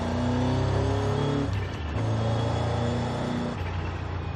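Car engine in the Forza Horizon 5 racing game on the way to a drag strip, a steady loud roar that climbs in pitch through gear changes, with shifts near the middle and end and no voices.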